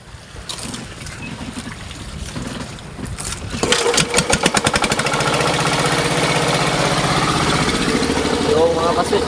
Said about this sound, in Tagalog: Banda na muna ng generator para makapailaw na.